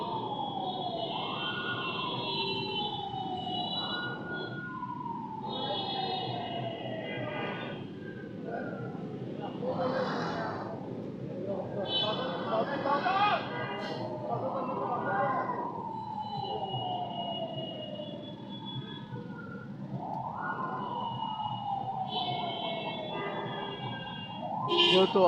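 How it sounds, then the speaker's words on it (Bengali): Ambulance sirens wailing through jammed night-time traffic near Dhaka Medical College hospital in Dhaka, with repeated rising-and-falling sweeps at mid distance over engine rumble and horns, while a person talks. "যেহেতু হাসপাতাল এলাকা, অ্যাম্বুলেন্স যাচ্ছে, রুগী যাচ্ছে অ্যাম্বুলেন্সে নিয়ে"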